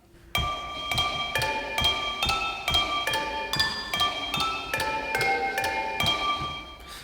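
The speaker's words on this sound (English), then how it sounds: "After that, I have a sound that I call Demon Bell." Metallic bell sample called Demon Bell, struck roughly every 0.7 seconds in a steady ringing sequence of changing tones with a slightly eerie, inharmonic shimmer, clear and alone.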